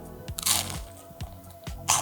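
Sharp, loud crunches from biting into crispy air-fried prawn toast, several close bites and crackles in quick succession with no talking.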